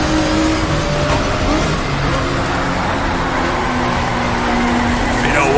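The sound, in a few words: race car engines accelerating in racing video game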